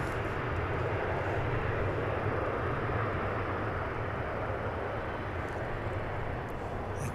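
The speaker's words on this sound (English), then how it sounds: "We have a west side takeoff." A jet airliner taking off from the west side of DFW International Airport in Texas, a steady broadband engine roar that holds evenly throughout, moderately distant and fairly quiet.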